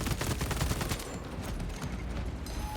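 Automatic bolt carbine fire in the Space Marine video game against Chaos enemies, a dense stream of rapid gunshots with layered battle noise, loud throughout and without talking.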